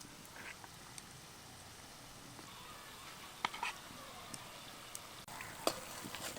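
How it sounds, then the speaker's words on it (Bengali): Lobongo lotika, folded Bengali sweets, frying in hot oil with a steady low sizzle and bubbling, broken by a few sharp spatters and clicks from turning them in the pan. "অন্য দিকটাও এরকম লাল করে ভেজে নেব"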